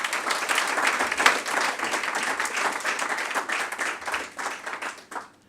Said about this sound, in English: That's clap for all three.